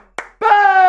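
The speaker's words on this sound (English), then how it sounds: "If you send in a Super Chat for the first time, we'll give you a 2-clap." Two sharp hand claps, the second followed by a ringing bell-like tone that sustains to the end, close and loud against a quiet background.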